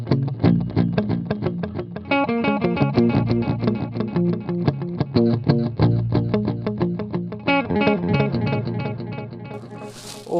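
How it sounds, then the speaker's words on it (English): Clean electric guitar through a delay effect, a steady run of plucked notes and chords with echoing repeats that continue without pause, loud and close, with no voices. "And then some little delay action. So again, usually with clean."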